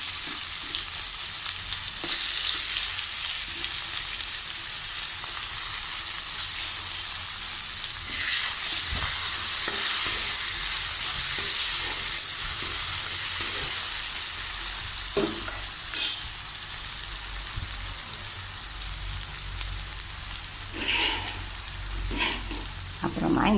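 Chopped ginger, green chili and garlic sizzle in hot oil with browned urad dal for an unripe papaya stir-fry, a steady bright hiss broken by occasional scraping stirs of a spoon against the pan, with no talking.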